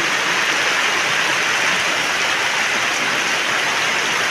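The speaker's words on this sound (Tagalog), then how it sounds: "Maaga pa pong ulan ng ulan eh." Steady heavy rain pours down, a dense continuous hiss of drops with no pauses and no voices.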